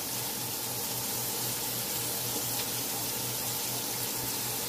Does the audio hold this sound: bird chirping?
no